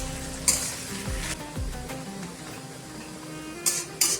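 Onions frying in hot oil for a spicy beef kidney and liver masala, with a steady close sizzle, spoon scrapes and a few sharp clinks of the pan.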